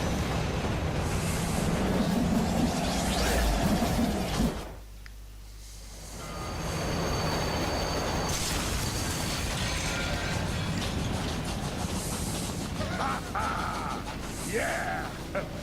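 In the video game Killer Is Dead, a high-speed train thunders past with a heavy, sustained rumble that briefly dips, as if entering a tunnel, then resumes at full volume.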